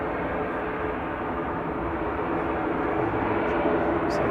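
An Aer Lingus propeller airliner passing at Manchester Airport, a steady broad engine roar that swells slightly as it goes by, heard from a distance without talk.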